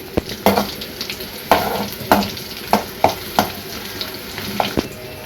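Tempering of garlic and mustard seeds sizzling in hot oil for an eggplant tomato pickle, a soft steady sizzle punctuated by sharp, irregular clicks and scrapes of a spoon in the pan, close and without talk.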